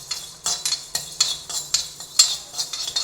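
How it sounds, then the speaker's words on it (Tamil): About three spoons of coriander seeds are dry-roasted in a pan for brinjal gothsu, with sharp, repeated spoon scrapes and rattles in an uneven rhythm, close and fairly loud, and no speech. "கொத்தமல்லி ஒரு 3 ஸ்பூன் வச்சுருக்கிறேன், அதை வறுத்துக்கலாம்"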